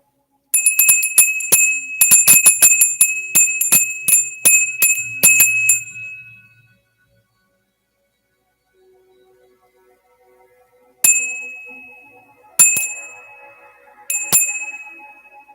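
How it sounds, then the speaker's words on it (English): A meditation bell or singing-bowl chime rung to close a guided crystal-scrying meditation: a rapid run of bright metallic strikes over about six seconds, a quiet pause, then three single ringing strikes, each left to decay alone. "let's ring this bell for anyone who can't break out of the trance"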